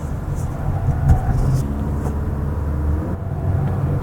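A Mazda CX-5 with an automatic transmission driving through a series of curves, a steady low engine and road rumble heard from inside the cabin, continuous and fairly loud.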